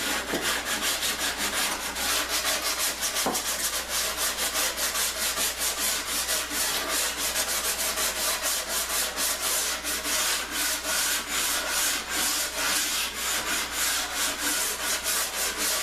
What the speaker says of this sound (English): I'm just hitting the bottom of this ring with some 100 grit here. Smoothing the bottom a little bit and taking the edge off on the inside.